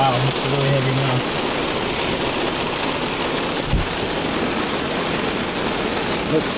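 Heavy thunderstorm downpour in Lyndonville, Vermont, a dense, steady roar of rain that fills the whole stretch, loud and close, with a brief low thump near the middle.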